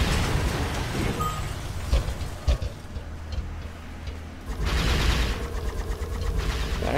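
Bomblets bursting in the video game Tower of Guns, a busy stretch of popping explosions and rapid shots, with louder clustered bursts near the end.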